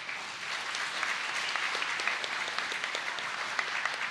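Audience applause at a higher education ministry New Year address, a dense steady spread of many hands clapping throughout, loud and continuous with no talk over it.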